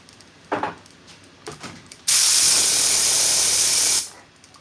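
An air blow nozzle with a spinning weighted end inside a cone releases a loud, steady hiss of compressed air for about two seconds, preceded by a couple of faint knocks and handling sounds.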